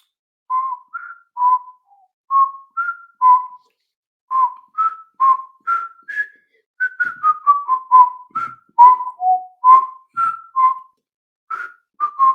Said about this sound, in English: Sorry, my whistling.